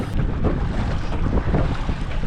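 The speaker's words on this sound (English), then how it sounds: "Because the wind and the waves aren't really helping us at all." Wind and waves buffet a small tin fishing boat on open water, with loud gusty wind rumble on the microphone and sloshing chop against the hull, continuous and close, with no talking.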